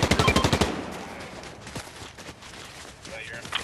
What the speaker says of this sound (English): they're shooting at somebody or somebody.